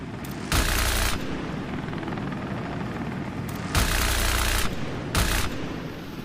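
Helicopter rotor drone mixed with bursts of gunfire in the multiplayer war video game WARDOGS, three loud broadband blasts or volleys standing out over a steady low rumble, no talking.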